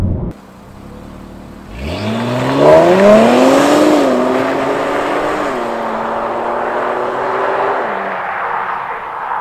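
An Infiniti Q50 Red Sport 400 sedan launches hard, its engine note rising steadily through the revs into a loud, sustained pull, then easing slightly near the end, heard up close with no talking.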